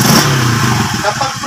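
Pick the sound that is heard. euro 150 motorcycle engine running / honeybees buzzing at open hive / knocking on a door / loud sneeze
euro 150 motorcycle engine running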